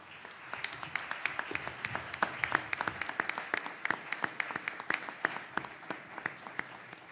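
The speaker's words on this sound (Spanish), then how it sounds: "¿Qué más decir que un aplauso para esto?" An audience at a university honorary doctorate ceremony applauds for several seconds, moderately distant, many individual claps audible in a brisk, uneven patter that holds steady throughout.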